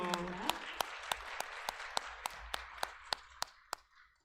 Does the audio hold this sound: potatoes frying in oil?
no